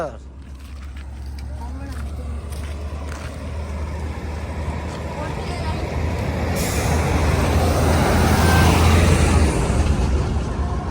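A tractor engine running near a river in Rajasthan, a loud steady low rumble that grows slightly louder over time, with a person talking over it.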